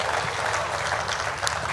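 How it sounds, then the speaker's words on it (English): Applause at a ceremony for the African Medical Centre of Excellence: a dense, steady patter of many hands clapping, moderately loud and continuous with no voices over it. "Give them a round of applause, please."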